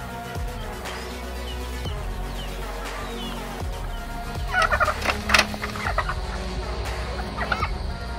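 Turkeys on a farm gobbling, several loud bursts of gobbles in the second half over a steady background of other fowl and farm noise.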